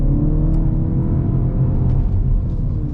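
A 2025 Mini Cooper S with a 7-speed DCT, in sport mode, gives a steady low engine rumble and whir from inside the cabin, loud and continuous, with no talking.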